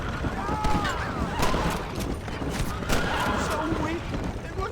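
Several gunshots crack out in Red Dead Redemption amid a gang shootout, sharp scattered reports spread over a few seconds, mixed with shouting voices and background game noise.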